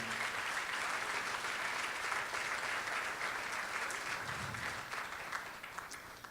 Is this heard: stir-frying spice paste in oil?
no